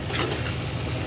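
Onion, tomato and green chilli sizzle and hiss steadily in a pan for crab curry while being stirred, a close, continuous frying sound with no voices.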